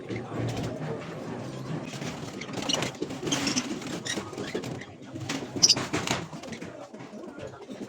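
Pet parrots, lovebird-type birds of green pastel, ino and pastel-faced lines, chatter and call in an aviary, a busy mix of chirps and squawks with rustling and faint background movement throughout.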